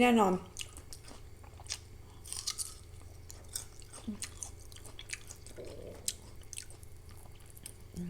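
Crisp bites and steady crunchy chewing of candied giant tamarind, eaten close to the mic, with a short voice at the start and repeated crackling bites and chews through the rest.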